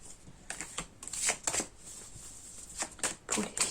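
Tarot cards are shuffled up close in quick, papery riffles and soft slaps, coming in uneven bursts with brief pauses between them.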